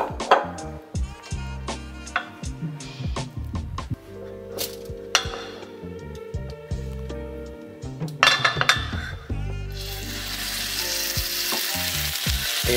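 Kefta sear in a very hot pan with olive oil, giving a sizzle that turns into loud, steady frying toward the end, mixed with clinks and scrapes of utensils against the pan and no speech.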